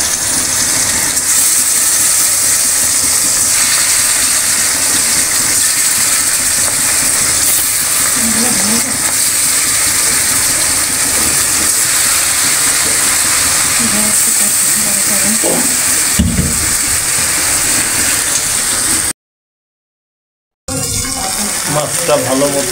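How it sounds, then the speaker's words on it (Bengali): Koi fish frying in hot oil, a dense, continuous hissing sizzle that stays loud and steady, broken by a short dropout near the end before resuming. "তেল গরম হয়ে গেছে, এখন মাছগুলো দিয়ে দিল।"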